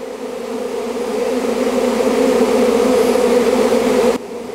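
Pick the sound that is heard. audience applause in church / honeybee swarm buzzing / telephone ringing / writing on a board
honeybee swarm buzzing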